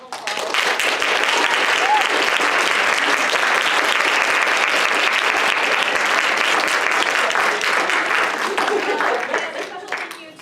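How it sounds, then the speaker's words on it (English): An audience gives panelists at an art and community panel a big round of applause, steady dense clapping that holds loud for about ten seconds before tapering off. "I want to give our panelists a big round of applause."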